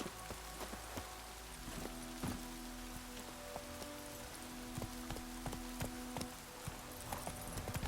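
Roach the horse galloping in The Witcher 3, steady quiet hoof clops in a rapid rhythm over a soft rain-like hiss, faint and distant with no talking.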